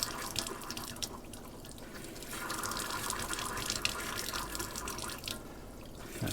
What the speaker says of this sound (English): I'm going to get some of the water coming through the taps.